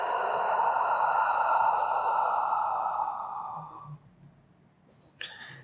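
A long, steady exhale during a dumbbell total-body workout, breathy and close, trailing off after a few seconds into near silence before a brief faint sound.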